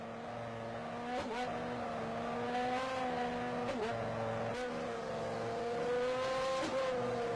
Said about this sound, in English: we'd like to do a shift check now, please. Just look at how quickly the gears are selected.